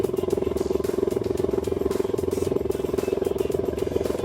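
Outboard boat engine idling steadily while being flushed with Salt Away solution through a hose mixer, a loud, even, rapidly pulsing drone that holds throughout with no break.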